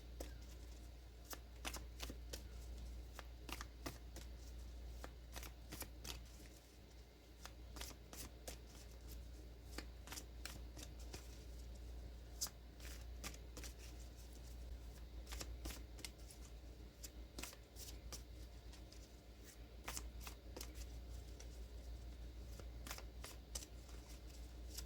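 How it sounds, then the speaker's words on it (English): Tarot cards shuffled steadily for the whole stretch, a fast run of crisp riffling flicks close to the mic over a low steady hum, with no talking. "So we'll pull a couple more cards and see how this message unfolds."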